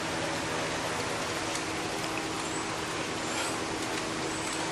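Steady rain falls outdoors across a broad, even hiss, with a faint low rumble beneath and no voices.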